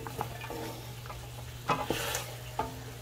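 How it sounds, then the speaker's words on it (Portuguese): Rooster meat and chives frying in fat in a pan, with a steady sizzle broken by several sharp scraping stirs and clinks of the utensil, close and moderately loud, with no voices. "Até dar uma fritadinha só na gordura"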